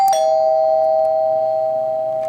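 Doorbell sounded by an illuminated stainless steel push button, a single bright electronic chime struck at the start that rings on as a sustained tone, loud and close with no talking.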